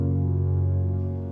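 A sustained piano chord played in Ableton rings steadily and fairly loud for about a second, then begins to fade, with no talk over it.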